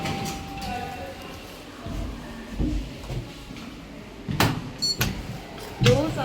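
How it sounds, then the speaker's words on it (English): Doors of a newly installed passenger lift slide shut in a York city centre building, a series of soft thuds and mechanical clunks ending in a firmer bump near the end, with faint speech nearby. "Doors are closing."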